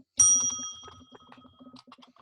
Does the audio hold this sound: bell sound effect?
yes